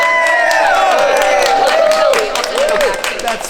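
An election night crowd erupts in spontaneous applause and cheering, loud and close, with whoops and a voice carrying over the clapping.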